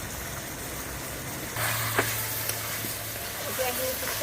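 Ground cumin and jaluk pepper powder fry in a pan for an Assamese village-style duck curry, a steady close sizzle that grows louder midway, with stirring scrapes and a low hum underneath.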